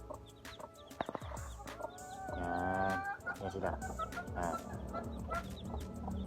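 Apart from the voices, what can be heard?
newborn chicks peeping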